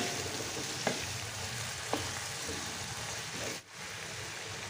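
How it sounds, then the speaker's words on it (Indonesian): Fried chicken with soy sauce being stirred in a hot pan, with steady sizzling and frying hiss throughout and a couple of sharp utensil clicks against the pan; no talking. "Lalu masukkan yang sudah disiapkan tadi. Kemudian aduk rata."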